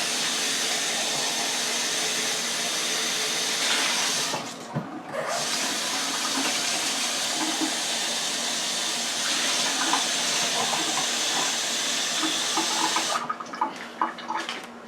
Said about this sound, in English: you do have to pour a little bit of water over the top and then cover it with aluminum foil to make steam